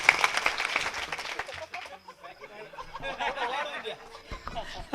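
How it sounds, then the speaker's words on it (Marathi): A crowd at a kirtan for the Shiv Jayanti celebration breaks into a short burst of clapping that fades, followed by scattered chuckles and murmuring voices. "आता मला बी काही तर द्या ना टाळ्या"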